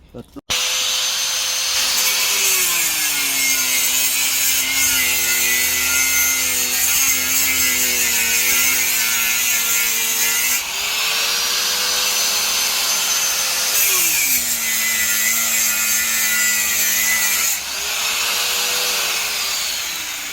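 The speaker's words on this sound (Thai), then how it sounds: "แต่ถ้าใช้ลูกหมูอ่ะลูกพี่" An angle grinder whines loudly and continuously while stripping insulation off electrical cable for copper recycling, its pitch dipping and rising under load in several long passes, close up.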